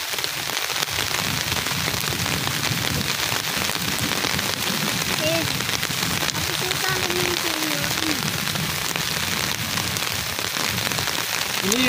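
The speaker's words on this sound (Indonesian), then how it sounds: "Ini berhubung hujannya semakin deras ya" Heavy rain pours steadily outdoors during a fish-netting trip, a dense continuous hiss that fills the whole scene, with faint voices and other sounds underneath.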